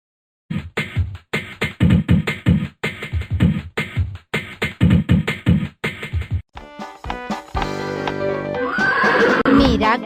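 Rhythmic hoofbeats pound in a fast, steady pattern, then a loud, drawn-out horse whinny rises over the end.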